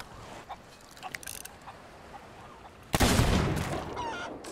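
Sniper rifle gunfire in the Sea of Thieves video game: a sudden loud crack near the end, followed by a sustained noisy burst and rumble, after quieter scattered game sounds.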